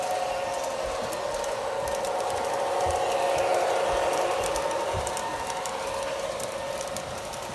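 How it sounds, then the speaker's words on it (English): A model train circles the track around the perimeter of a hobby store, a continuous even hum and whir with faint clicking, steady and moderately loud throughout. "actually have a live motion model train going around the perimeter"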